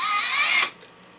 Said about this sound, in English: this is a gearhead motor, so let's increase the speed.